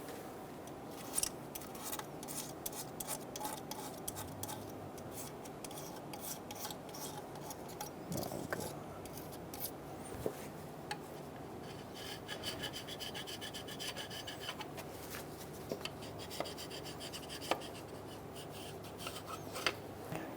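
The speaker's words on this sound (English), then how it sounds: "Using a scraper, go through and scrape these surfaces," A hand scraper rasps steadily over the intake plenum gasket surfaces on a 2003-2007 Honda Accord 3.0L V6 engine, a continuous close scratching and rubbing with small repeated strokes, no talk.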